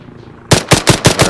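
Five rapid, evenly spaced gunshots ring out close and loud in an Arma 3 battle royale match, cutting in abruptly after a moment of quiet.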